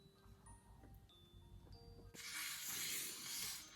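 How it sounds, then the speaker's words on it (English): After a quiet stretch with faint clinks, an aerosol spray bursts out in one loud, continuous hiss lasting over a second. "Please do not spray everywhere."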